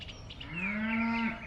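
A cow with small horns on a homestead gives one close, loud moo lasting about a second, rising and then cutting off, with faint background noise.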